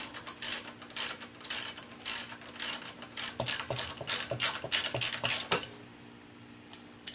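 Quick ratchet clicks in bursts as a bolt holding a brake line to the hub of an R32 Nissan Skyline is loosened, close and crisp, pausing briefly then resuming before falling quiet near the end.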